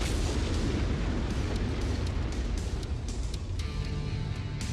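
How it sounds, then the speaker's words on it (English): Video game explosions from MechWarrior 5: Mercenaries rumble in a dense, continuous barrage of heavy booms and crackling blasts, loud and without pause, with no talk. "Those explosions look nice."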